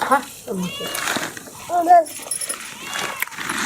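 A cat meows a few times, short rising cries mixed with people chattering nearby.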